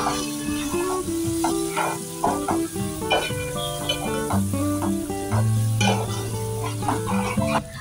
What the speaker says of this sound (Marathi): आणि घालूया छोटा चमचा हिंग। हे परतवून घेऊया।